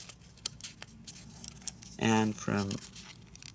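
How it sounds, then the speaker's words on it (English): A paper dollar bill being creased and folded by hand for origami, giving soft crinkling and rustling close by beneath a person talking. "let's fold from here to this point on the top layer"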